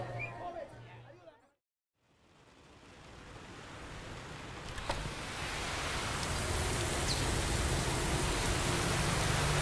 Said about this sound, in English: Listen to the sound of that rain. It is pouring out